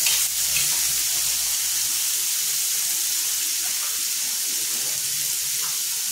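Unwashed dried jawla shrimp frying in a pan for a Konkani-style fry, giving a steady, close hiss and crackle that runs unbroken and evenly loud, with no voices.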